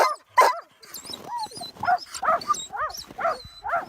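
Sled dogs from a working team bark, yip and whimper in quick overlapping bursts, several loud close barks followed by a rapid run of high excited yelps, with no talking.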